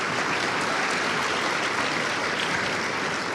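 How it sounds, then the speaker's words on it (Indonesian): A TV studio audience applauds during a talk show, a steady, dense wash of many hands clapping together at full volume for the whole stretch, with no voices over it. "aplaus ya"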